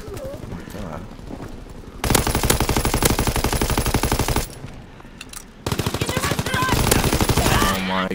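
Dense rapid automatic gunfire from the Call of Duty: WWII video game, two sustained bursts of loud close machine-gun fire separated by a brief lull.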